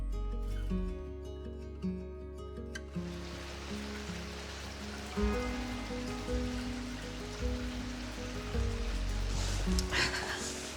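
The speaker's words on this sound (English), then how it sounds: "Whenever it rains really heavily, I love to just sit by the window and watch." Heavy rain falls as a steady broadband hiss, continuous and fairly loud, with a low musical drone and tones running underneath the whole time.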